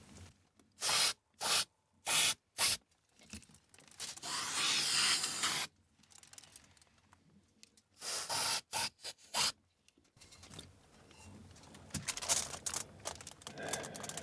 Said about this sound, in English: let me spray a little more atmosphere